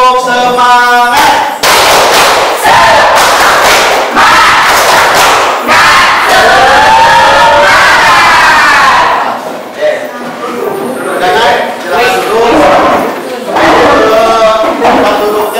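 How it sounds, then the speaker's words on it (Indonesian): A group of children in a classroom perform a spirit clap chant, loud rhythmic clapping mixed with energetic shouted chanting and yells, close and intense, with brief thumps and a short lull midway. "Tepuk semangat."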